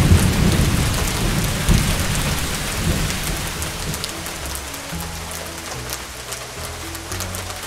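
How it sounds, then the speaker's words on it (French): Heavy rain pours steadily while deep rolls of thunder rumble through a thunderstorm, the rumbles swelling and fading over the constant hiss of rainfall, with no voices. "un ciel sombre et nuageux avec de forts coups de tonnerre au-dessus"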